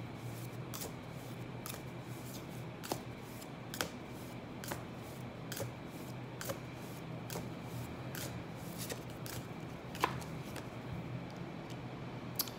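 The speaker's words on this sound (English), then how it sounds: "I'm just going to pull some cards and see what's going to happen in the future" Tarot cards shuffled and drawn from a deck: faint, repeated crisp card snaps and flicks at an irregular pace over a soft, steady background hiss, close and quiet.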